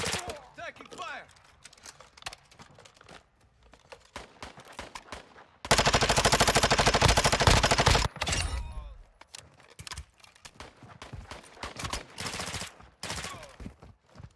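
Gunfire in a video game shootout while fighting to extract: scattered single shots and short bursts, then a loud sustained stretch of rapid automatic fire, then more sporadic close shots, with occasional talk in between.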